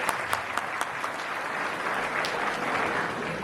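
Audience at a Hindi kavi sammelan poetry recital applauding, a burst of clapping that starts with a few sharp claps and settles into steady, moderately loud applause throughout.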